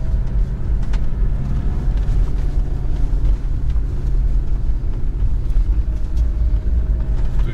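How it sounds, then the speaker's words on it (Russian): Toyota Land Cruiser Prado 120 engine pulling under load as the turbo comes on, a steady loud low drone and road rumble heard from inside the cabin, with no one talking. "То есть турбина где-то срабатывает"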